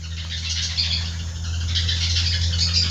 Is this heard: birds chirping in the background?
yes